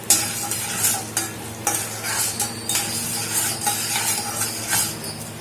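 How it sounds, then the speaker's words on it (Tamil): Chana dal, urad dal and peanuts are dry-roasted in a pan while being stirred, making a continuous dry rattling and scraping with soft sizzle-like hiss and regular louder stirring strokes. "கடலைப்பருப்பு, உளுத்தம்பருப்பு, அப்புறம் வேர்க்கடலை. இது நல்லா ரோஸ்ட் பண்ணிக்கலாம்."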